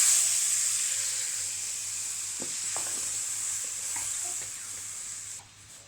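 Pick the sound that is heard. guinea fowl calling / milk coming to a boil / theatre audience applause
milk coming to a boil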